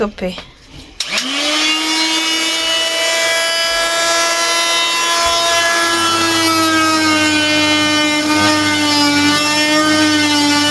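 A power tool cuts into the metal bodywork of an old J5 camper van with a loud, sustained high whine that starts abruptly after a brief clunk and holds steady at close range, grinding on for about ten seconds.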